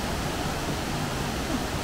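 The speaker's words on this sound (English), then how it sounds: "I think there's maybe like a waterfall like around the back here." Constant broadband roar of a waterfall in the wooded Alva Glen, a loud, unbroken wash of rushing water with no voices.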